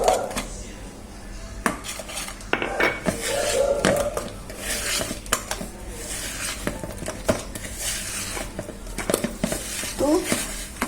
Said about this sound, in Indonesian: Masukkan terigu protein rendah, aduk hingga rata ya.